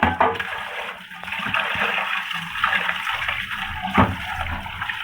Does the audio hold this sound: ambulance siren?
no